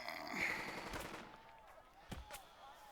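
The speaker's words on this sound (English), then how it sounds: "And being shot at by a different MG." Machine gun fire in the World War II strategy game Burden of Command comes as a few sharp, fairly faint bursts and cracks over a low ambient background.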